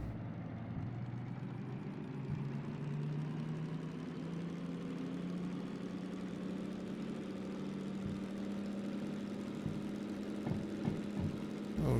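A DM3 diesel locomotive in the train game Derail Valley revs its engine in first gear, a steady low droning rumble whose pitch climbs slowly as the revs build, heard alone with no talk.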